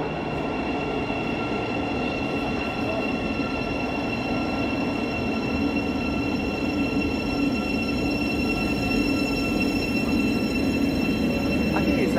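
An eight-car passenger train on the Hertford Loop rumbles steadily past at close range for the whole stretch, a continuous loud rolling roar with faint wheel squeal and no voices.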